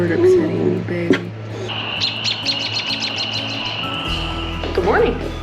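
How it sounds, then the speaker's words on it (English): Small bird chirping near an RV campsite in the Great Smoky Mountains, a rapid run of about ten high repeated chirps midway, with other scattered calls over a low engine-like hum and background noise. "Is that bird upsetting me, baby?"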